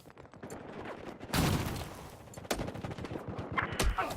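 Rapid automatic MTAR-21 carbine fire in Battlefield 4, several loud bursts of gunshots in quick succession with short gaps between them, close and punchy.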